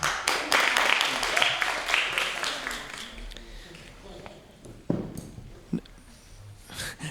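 An audience at a 2019 poetry slam at the Barron Arts Center applauds a poet: a burst of clapping opens loudly, then thins out and fades, with scattered claps and some voices afterward.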